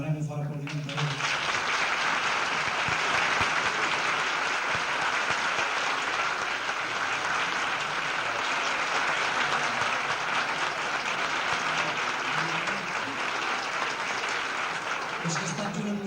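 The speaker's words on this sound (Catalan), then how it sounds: "que demanem un fort aplaudiment per ell" A dense, steady wave of audience applause for Jordi Salvador, a 1982 Grup Garigots show, carries on loud and unbroken for about sixteen seconds before easing slightly at the very end.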